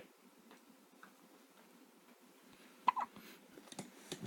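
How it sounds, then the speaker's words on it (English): A baby girl hiccups a few times, short soft jolts that stand out against an otherwise quiet indoor room. "Those hiccups are taking over her whole body."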